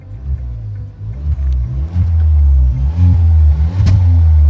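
A new petrol Tata Harrier SUV revs close up with a deep rumbling exhaust note that surges in repeated bursts and settles into a sustained, loud drone.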